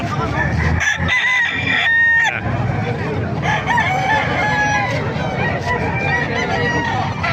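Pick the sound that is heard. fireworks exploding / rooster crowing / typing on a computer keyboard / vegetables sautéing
rooster crowing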